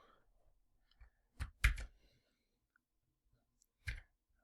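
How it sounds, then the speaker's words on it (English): A few sharp clicks in quiet, a cluster of quick keystrokes then a pause and one more tap, like someone typing on a keyboard nearby. "Just trying to type."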